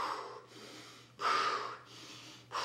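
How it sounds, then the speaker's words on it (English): Deep, forceful breaths during a high-intensity yoga class, long nasal inhales alternating with breathy mouth exhales in a steady rhythm, close and clear with no talking. "Do you hear those cleansing breaths? Deep nasal inhales, mouth exhales is what I'm doing here."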